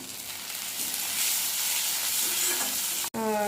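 Onions frying in a pan until golden brown give a steady, moderately loud sizzle with light stirring scrapes, cut by a brief click near the end and followed by a faint tone.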